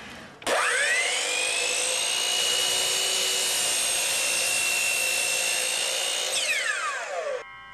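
A Hitachi C12RSH sliding miter saw spins up with a sharp whine, cuts steadily through a wooden workpiece for about six seconds, then winds down, loud and close.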